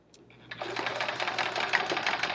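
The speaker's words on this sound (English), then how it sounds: "Meaning I'm stitching on my stitches where I just went." A sewing machine fitted with a Westalee ruler foot stitches steadily, its needle whirring in a fast, even rhythm that starts after a brief pause and runs on at moderate loudness.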